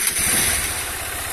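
Honda CG 160 motorcycle engine settling into a steady idle after a home repair, a close, loud, continuous putter with no talk.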